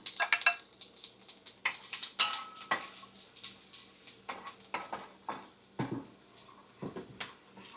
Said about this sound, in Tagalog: Oil already hot, so first I will put the garlic or yung bawang